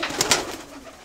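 Pigeons coo close by in a loft, giving two or three soft, throaty calls in quick succession that then trail off into quiet.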